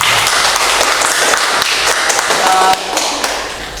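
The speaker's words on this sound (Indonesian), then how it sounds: "tepuk tangan kita semua" A school class applauding during a classroom practical lesson: loud, dense clapping from many students, steady throughout and tapering slightly toward the end, with faint murmuring underneath.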